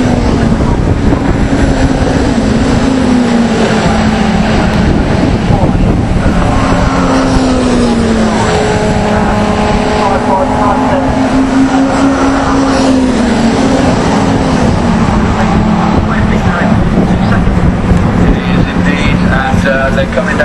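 Caterham Seven 310R race cars at Castle Combe circuit during a championship race, engines droning loudly with rising and falling pitch as they come past, under continuous race commentary.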